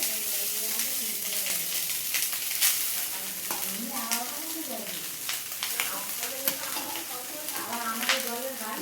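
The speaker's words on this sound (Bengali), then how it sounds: "একটু একটু করে কড়াতেই মিক্স করব, তাহলে ভালো হবে।" Steady sizzling of frying rice with repeated scraping strokes of a spatula stirring in a wok, and a voice speaking over it.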